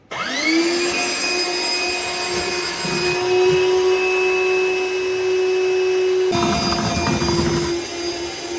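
A wet vacuum whines loudly and steadily up close, its pitch rising at start-up, with a gurgling rush of water sucked from a sump pit partway through.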